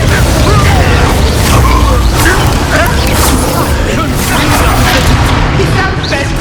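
Confringo explosive spell blasts in the Hogwarts Legacy video game during a chaotic fight, loud rumbling booms and crackling bursts piling up continuously with clattering impacts.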